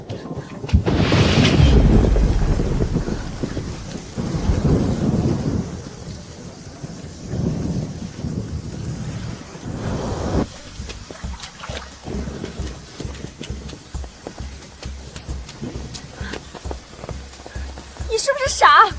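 Heavy rain pouring with thunder, a big rumbling crash early on, then continuing downpour hiss with further rolling rumbles, loud and close throughout.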